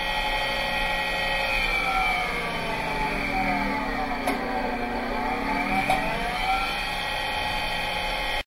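A spinning wheel, with a large horseshoe magnet about to be used for eddy current braking, gives a steady, loud mechanical whir with a sustained whining tone that holds nearly constant throughout, no talk over it.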